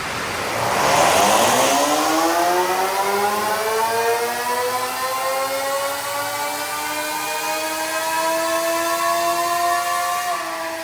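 An Apollo RFN electric motorbike with a big battery runs on a dyno in Sport Level 9. Its loud, close motor whine climbs steadily in pitch with layered rising tones through a long acceleration pull, then drops off at the end.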